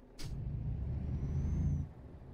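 A Scania truck in Euro Truck Simulator 2 sends out a short sharp hiss of air brakes over a steady low engine rumble, with a faint high whistle as the engine noise dies away.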